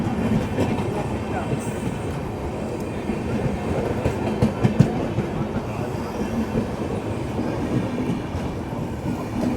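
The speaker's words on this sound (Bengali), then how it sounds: "ভোরের আলো ফোটার সাথে সাথে নর্থ ইস্ট এক্সপ্রেস ঢুকছে 12506" North East Express 12506 rolls into a station platform at dawn, a steady dense rumble of wagons with faint clickety-clack and a brief squeal, moderately close and continuous throughout.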